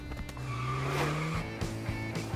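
A cartoon car being driven, with its engine droning and tires squealing in a rising, drawn-out screech, followed by further skidding bursts and revving, loud and close.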